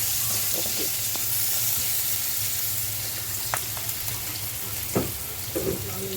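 Mutton curry base with onion sizzles steadily in a pan over a low gas flame. The frying runs close and continuous, with a few light utensil clinks toward the end and no speech.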